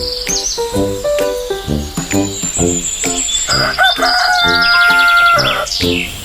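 A cartoon rooster crows loudly at dawn on a village farm, its long harmonic calls repeating several times over a bed of chirping crickets and birdsong, with no talking.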